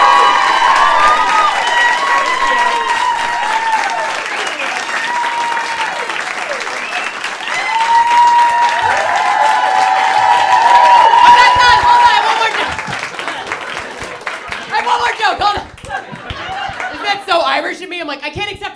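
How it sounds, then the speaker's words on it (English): A comedy special audience breaks into loud, sustained applause with cheering and scattered laughter, swelling midway before thinning into patchier clapping toward the end. "I'm like, I can't accept this applause."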